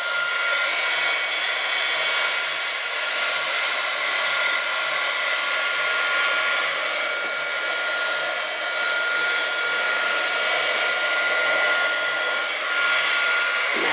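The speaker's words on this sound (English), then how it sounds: "you just take the heat gun and go over the gesso, and that just helps speed up the drying process" A heat gun blows over wet gesso on a repurposed book cover, a loud continuous whining hiss of hot air that holds steady throughout with no voices.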